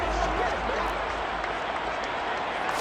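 Stadium crowd noise from a Madden NFL 23 football game, a steady loud roar of cheering and applause filling the whole stretch with no break.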